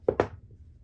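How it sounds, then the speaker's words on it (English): Craps dice thrown onto a casino table, two sharp close clatters in quick succession followed by a short fading rattle. "Dice are out."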